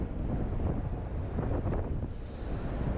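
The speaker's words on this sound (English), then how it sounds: "Damn, it's fucking windy, y'all." Strong wind blasts outdoors, a steady loud rushing roar with gusty buffeting across the microphone throughout, no one talking.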